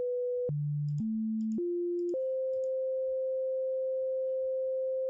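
A series of pure sine-wave tones triggered from a MIDI keyboard, stepping through several pitches, short notes first, then one held steady for several seconds.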